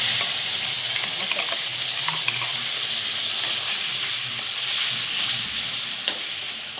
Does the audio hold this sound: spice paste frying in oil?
yes